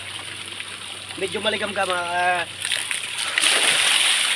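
Lukewarm water pours strongly and splashes steadily at a small outdoor bathing spot, growing louder and closer toward the end after a person speaks over it.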